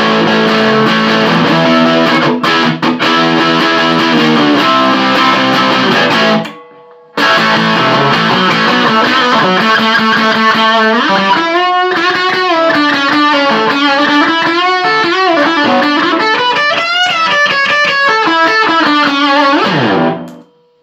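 A heavily distorted electric guitar plays loud, sustained chords and riffs through an AXL T-15 valve hybrid combo amp at full gain, pausing briefly before a run of punchy, saturated notes.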